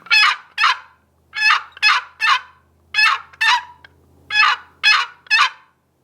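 A homemade mouth call imitates a tom turkey: loud, raspy yelps in close-miked clusters of two and three, about ten notes separated by short silent gaps, with no talking.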